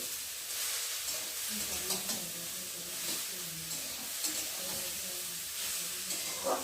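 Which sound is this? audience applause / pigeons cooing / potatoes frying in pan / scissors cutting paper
potatoes frying in pan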